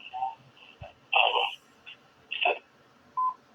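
Several telephone dialing tones, the touch-tone beeps of a cell phone number being keyed, come as short separate bursts with gaps between them, close and clear, with no talking.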